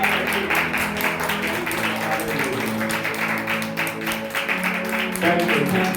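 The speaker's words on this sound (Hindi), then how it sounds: "जोरदार ताली बजाइए।" In a church service, a congregation claps loudly with a quick repeated beat, mixed with sustained musical tones and voices underneath.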